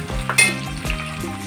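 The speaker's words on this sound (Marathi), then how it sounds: "कांदा आपल्याला चांगला लालसर होईपर्यंत तेलात परतून घ्यायचा आहे।" Onion fries in oil in a pan for a masoor dal curry, giving a close, steady sizzle with brief scraping stirs and no talk.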